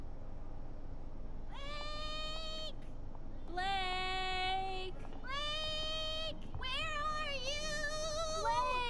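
A cat gives a series of drawn-out, tonal meows, four or five calls in close succession, fairly near and clear against a quiet background.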